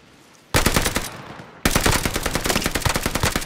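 Gunfire in Call of Duty Warzone, one short burst, a brief pause, then a loud sustained fully automatic stream of rapid shots close up.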